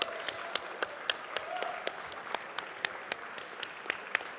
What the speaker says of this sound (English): I think we should give him a round of applause one more time.